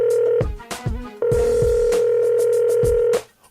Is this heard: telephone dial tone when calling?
yes